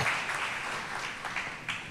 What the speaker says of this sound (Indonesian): Kasih tepuk tangan buat teman-teman kita.